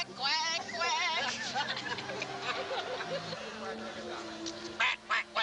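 People voice imitations of duck quacks, a rapid run of nasal 'quack' calls from close by that overlaps with background chatter and babble.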